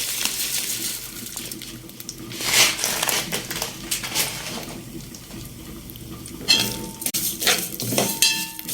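Vermicelli stirred and fried in buffalo ghee in a pot, with close metallic scraping and clanking of a spoon against the pot over a soft sizzle, in irregular bursts.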